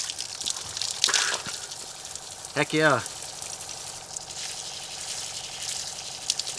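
Cold creek water runs steadily through a homemade, creek-fed off-grid shower outdoors, a constant splashing trickle close by, while a person speaks briefly over it.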